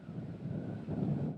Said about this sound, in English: it was a windy day out on the lake